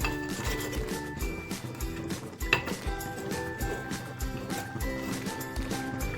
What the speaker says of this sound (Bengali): ছোট্ট একটা চামচ দিয়ে আমি নেড়ে নিচ্ছি ভালোভাবে